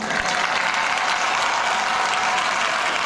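Loud, dense applause from an audience at an Indian Independence Day program at a temple, continuous clapping with no break over a few seconds.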